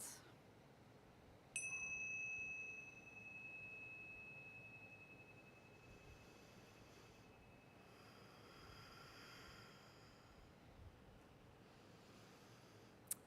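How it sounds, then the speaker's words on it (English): A single meditation chime is struck, ringing out clear and bright before a long, slow fading sustain in a quiet room. "I'm going to use the chime to mark this moment."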